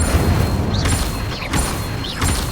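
Incendio fire spell cast repeatedly in Hogwarts Legacy: three whooshing bursts, each with a rising crackle, over a loud continuous rumbling background.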